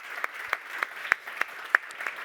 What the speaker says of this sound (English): give a warm round of applause for Carsten.